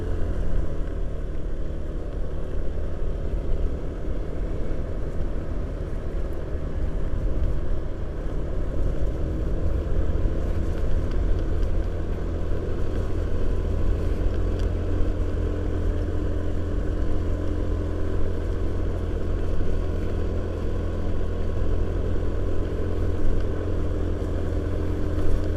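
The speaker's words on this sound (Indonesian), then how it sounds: "loba truk." Trucks on a rural road in West Java: a continuous low engine rumble and drone from nearby heavy vehicles, steady for the whole stretch with no talk.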